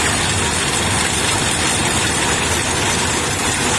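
A Kubota DC105X combine harvester works a rice field at a paddy corner, its engine a steady, loud, continuous drone with broadband mechanical roar that holds even throughout.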